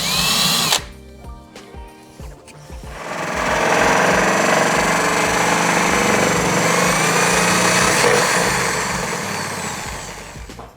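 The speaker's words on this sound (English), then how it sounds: "flip the box over and use the hole saw to cut from the other side." A power drill spins a hole saw cutting from the back side of a box during a solar power station build. A few short bursts come first, then a loud, steady grinding whine holds close by until the end.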